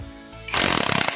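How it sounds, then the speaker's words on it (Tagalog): Cordless impact wrench fitted with a 19mm socket spinning off the axle nut of a Honda Click 125 motorcycle, a loud close burst of rapid hammering rattles lasting under a second. "ang bilis niyang matanggal yung nut ng ating axle"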